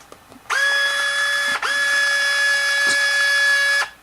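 The self-lacing motor of a Nike HyperAdapt 1.0 shoe loosens the laces with a near, loud, whirring buzz that runs about three seconds, catching briefly once partway through before continuing and then stopping abruptly.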